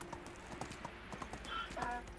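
Donkey hooves clip-clop in a steady rhythm inside the video game Medieval Dynasty, moderately close and continuous, with a faint animal call near the end and no one talking.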